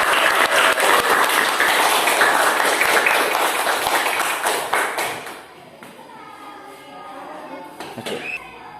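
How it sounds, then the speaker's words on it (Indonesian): Classroom applause for a student chosen to lead the singing of Indonesia Raya, a dense burst of clapping that holds loud for about five seconds, then thins into scattered claps with faint voices and taps. "Kita beri tepuk tangan untuk Mas Ivan"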